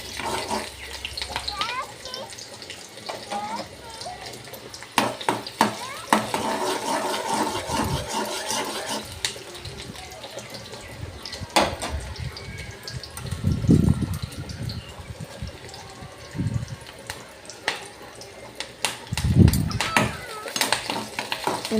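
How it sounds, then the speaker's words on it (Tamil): A tempering of shallots and curry leaves poured into a fish curry, heard as a sizzling, bubbling hiss with stirring and clinking of utensils, close and uneven over a long stretch. "சின்ன வெங்காயம் கீரி போட்டு அப்புறம் கருவேப்பிலை இந்த 2 தான் தாளித்து குழம்புல கொட்டிட வேண்டியதான்"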